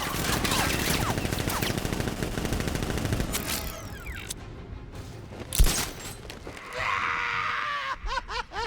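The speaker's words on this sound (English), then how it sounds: "Open fire! Shoot everything!" Guards fire on Batman in Batman Arkham Knight, rapid bursts of machine-gun fire and scattered gunshots for the first few seconds, then a loud single blast, sparse shots and creaks, and a closing flurry of pops and whooshing sounds.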